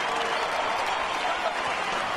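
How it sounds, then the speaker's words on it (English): Crowd applause at a championship MMA bout honoring fighters Gilbert Melendez and Josh Thomson, a steady dense roar of clapping and cheering filling the arena without a break. "they both deserve a round of applause"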